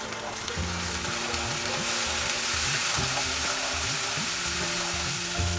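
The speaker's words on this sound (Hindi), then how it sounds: "मसाला हमें 3-4 मिनट सॉटे करना है, जब तक ऑयल रिलीज नहीं हो जाता है" Masala spices sautéing in oil for a salmon fish curry, including Kashmiri red chili, cumin and coriander powders: a steady, close, loud sizzle and fry with occasional stirring scrapes, no talk.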